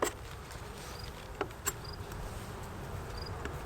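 Honey bees buzz around an opened, aggressive hive, a faint continuous insect drone in the background with a few soft clicks and knocks.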